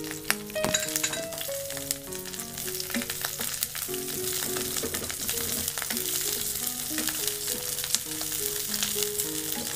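Two cubed onions fry in butter and garlic, giving a steady, close sizzle that runs the whole time, with scattered crackles and stirring scrapes. Background music plays underneath.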